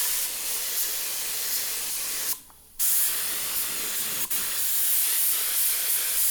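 A spray gun lays blue paint coats on a 1969 Camaro, a loud, close, steady airy hiss that cuts out briefly, resumes, and dips once more for an instant.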